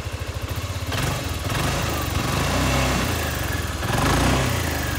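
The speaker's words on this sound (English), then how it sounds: "Starting up runs good. So I'll rev it up a little bit for you. It's on the center stand." A motorcycle with 22,000 miles, running on its center stand and revved a little, gives a close throbbing idle that rises into several swelling revs.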